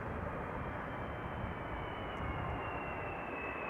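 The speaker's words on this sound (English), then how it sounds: "Here's our next one, Delta Airlines flight 136. There it is already. Arriving from Detroit, Michigan" A Delta Airlines Airbus A330-300 arriving at Amsterdam Schiphol Airport from Detroit, heard as a steady, broad jet engine roar that holds at a moderate, even level throughout, with no talking.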